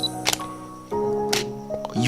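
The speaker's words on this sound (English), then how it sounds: "and press the shutter" Camera shutter clicks open, then after roughly a second it snaps shut again with a second click; a faint mechanical whir and low hum sit underneath.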